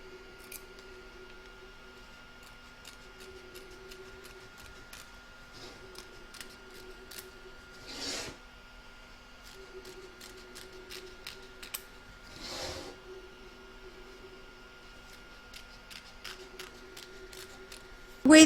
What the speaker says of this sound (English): You're now going to trim up the excess fabric from both the front and back of your hoop.